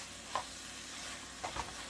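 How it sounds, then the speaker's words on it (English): A vegan hamburger dip is stirred in a pan, giving a faint, soft sizzle underneath with a few brief scraping strokes, no voices present. "I'm just going to mix that in very well."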